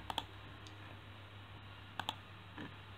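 Computer keys are tapped during ECU tuning software work: a quick pair of crisp clicks, a pause, then another pair, faint and close against a low steady hum.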